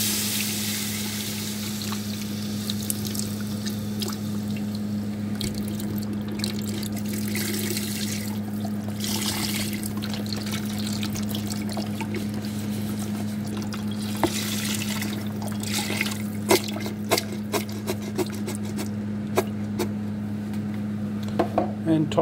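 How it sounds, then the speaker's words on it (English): A liter of mushroom stock is poured into a soup pot, making a steady trickling splash over a constant low kitchen hum, with a few small clinks near the end. "now I'll be adding a liter of mushroom stock to enhance the flavour"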